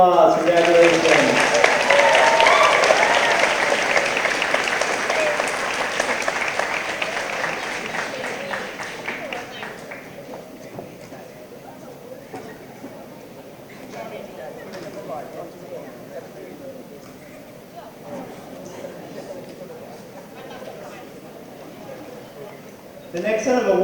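Audience applause at a school moving-on award ceremony, loud and dense at first, then tapering into thinner scattered clapping with background chatter before a brief swell at the end.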